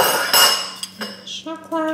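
A shot glass clinks and knocks against other glassware and kitchen items while a whiskey cocktail is being made, with several short bright taps and rattles, and a person speaking briefly near the end.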